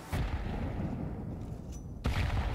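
Stacked grenades explode in a Counter-Strike match on Inferno, heard as two sharp, heavy blasts about two seconds apart with a muffled rumble between them.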